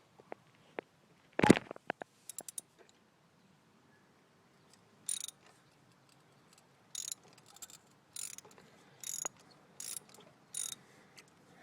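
A ratchet wrench loosens a spark plug socket on a 2008 Chrysler Town & Country during a tune-up, one sharp clunk followed by bursts of quick clicking pawl ratcheting, close and clear with quiet gaps between strokes.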